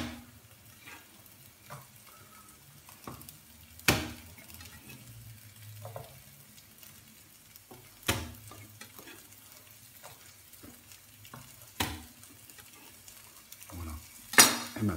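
Crushed garlic frying in a pan for piperade, a soft continuous sizzle with spoon stirring and several sharp clacks of the utensil against the pan at intervals, fairly close and without speech.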